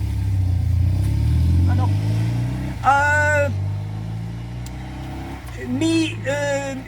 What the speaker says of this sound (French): il y a une moto qui passe encore